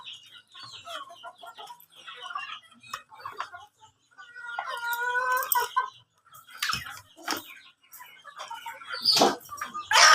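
Free-range village chickens (ayam kampung) clucking inside a coop, a steady run of close clucks and calls with a burst of wing flapping near the end, and no talk.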